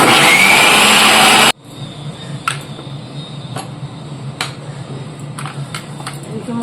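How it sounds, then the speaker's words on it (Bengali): An electric grinder whirs loudly and steadily while making ginger and garlic paste, then cuts off abruptly after about a second and a half, leaving a quiet kitchen with a few faint clicks. "আদা রসুনটা বেটে নিচ্ছি"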